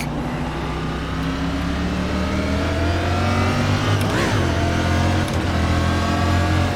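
A NASCAR Cup car engine in the iRacing game holds a steady, loud drone in fourth gear through the Watkins Glen road course esses, with the pitch rising slowly and a brief surge near the end.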